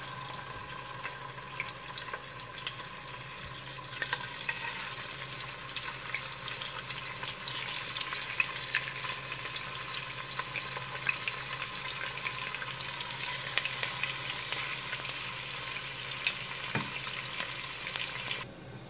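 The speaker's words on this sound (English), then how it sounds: "now I'm going to start browning our chicken" Steady crackling sizzle of skin-on chicken browning in a hot pot, continuous and close, with occasional clinks and stirring.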